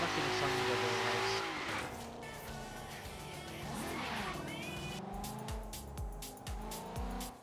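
Race car engines from Forza Horizon 3 roar loudly throughout, with revving pitch sweeps and brief tire squeals over continuous engine drone and background game music.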